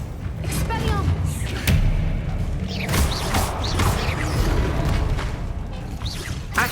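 An Expelliarmus disarming spell is cast in Hogwarts Legacy combat, giving magical whooshes, thuds and a crashing impact within a busy, loud stretch of spell fighting, with a voice speaking over it.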